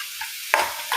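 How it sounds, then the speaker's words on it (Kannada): Bondas fish dropped into sizzling fried masala in a hot pan gives a steady frying hiss with a sudden sharper crackle partway through, close, with no speech. "ಈಗ ಮಸಾಲ ಒಳ್ಳೆ ಫ್ರೈ ಆಯಿತು ಈಗ ಈ ಬೊಂಡಸ್ ಮೀನನ್ನು ಇದಕ್ಕೆ ಹಾಕುವ"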